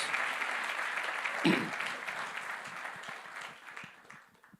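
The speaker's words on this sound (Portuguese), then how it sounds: "E dê um aplauso forte a Jesus." A church congregation applauds in a strong, dense burst that holds steady for several seconds, then thins and fades near the end.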